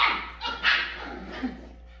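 Several puppies yip and bark in a quick flurry close by, the sharp yelps overlapping in two or three bursts before trailing off into quieter whimpers.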